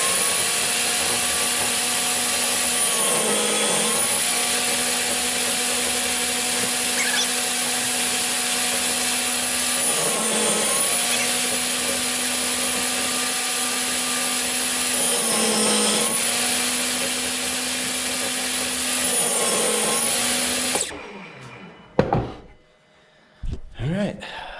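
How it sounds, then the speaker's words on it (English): A power saw cuts splines into hardwood for an end table, guided by a quick jig of 2x4s cut at 45 degrees and taped to a straight edge. A loud, steady whine dips briefly at each pass, then cuts off near the end. "I whipped up a quick jig to cut my splines"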